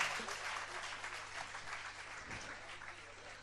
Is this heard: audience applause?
yes